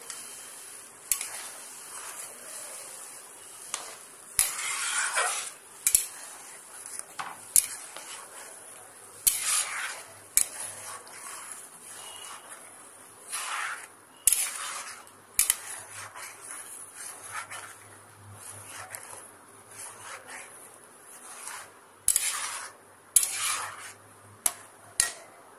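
Homemade ghee heated in a wok and stirred with a metal utensil: soft, irregular scrapes and clinks against the pan recur every second or two over a quiet background.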